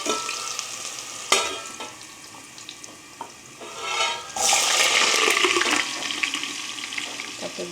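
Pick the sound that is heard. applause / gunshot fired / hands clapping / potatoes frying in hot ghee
potatoes frying in hot ghee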